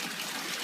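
Bath water gushes and splashes in a steady, broadband rush as shampoo is rinsed off a cat, brief and moderately loud, with no voices.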